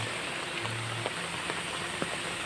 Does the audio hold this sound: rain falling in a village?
yes